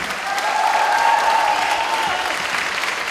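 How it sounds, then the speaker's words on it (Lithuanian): Applause for a dance studio at a club's thirtieth-anniversary event: a dense, sustained roar of clapping from a large audience, loud and even throughout with no pauses. "Ar galim dar padaryti Aušrinės šokių studijai dar daugiau aplodismentų šį vakarą čia?"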